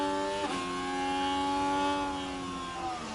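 Simulated Formula 1 car engine from the racing game F1 Manager 24, a steady whining tone with a brief rev shift early on, continuous and moderately loud with no voices.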